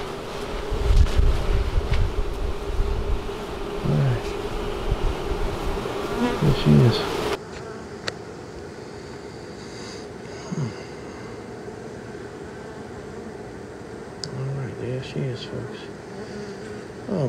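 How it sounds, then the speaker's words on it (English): Swarm of honeybees inside a brick wall buzzing continuously, loud and close at first with wind noise on the microphone, then steadier and somewhat quieter as individual bees drone past. "I like these bees. And there's a bunch of them."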